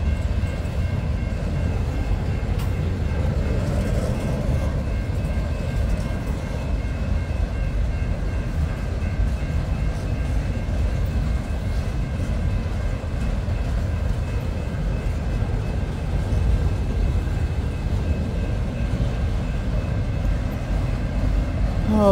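A CSX freight train, 31M, heads south through Rockwood led by a pair of AC diesel locomotives, a sustained heavy rumble of rolling cars passing steadily nearby.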